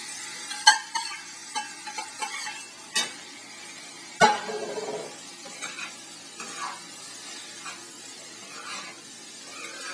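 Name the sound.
chopped tomatoes added to masala and stirred in pan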